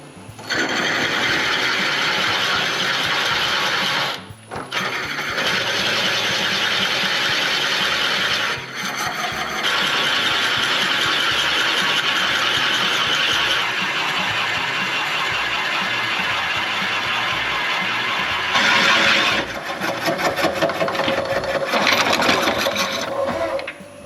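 A drill bores a 2-inch hole into a wooden block, giving a loud, steady, grinding whir that runs close and continuous, broken by a few short pauses and a harsher chattering stretch near the end.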